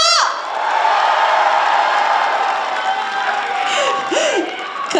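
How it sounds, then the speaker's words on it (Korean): A crowd at an outdoor mini concert during the Incheon cherry blossom festival raises a loud, sustained roar of cheering and whoops, with scattered high shouts near the end. "괜찮으신 분들만 박수 함성!"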